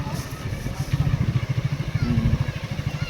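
A motorcycle engine at a temple festival in Tamil Nadu, throttle twisted lightly, gives a close, steady low pulsing rumble that rises slightly in intensity partway through, with crowd noise in the background.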